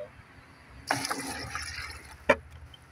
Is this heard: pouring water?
yes